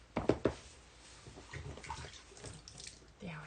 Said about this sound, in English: We're going to go ahead and just put a little bit of warm water in here.